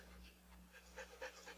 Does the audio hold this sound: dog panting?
yes